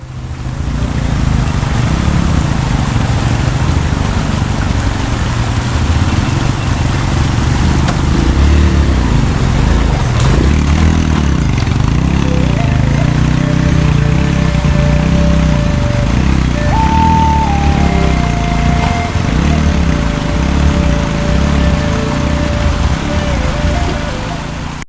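A motorcycle labours up a rough, steep mountain track in Pakistan's Basho Valley near Skardu, its engine a steady close drone mixed with wind buffeting and some voices, with a brief higher tone partway through.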